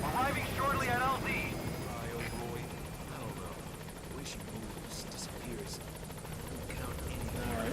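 The helicopter Pequod in a video game, a steady rotor and engine drone under radio-style voices, with chirpy effects at the start and a constant, moderately loud hum throughout.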